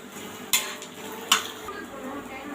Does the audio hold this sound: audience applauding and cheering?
no